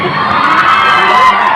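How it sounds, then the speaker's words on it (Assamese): A live audience roars for performers at a stage show, a loud, close wash of cheering, whooping and shouting voices with no break. "ইমান হাত চাপৰি বজাইছে উৎসাহ দিছে চিঞৰিছে"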